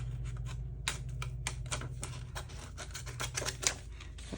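Small scissors snip through a paper junk journal tag in a steady series of crisp, close clicks and cuts over a low background hum.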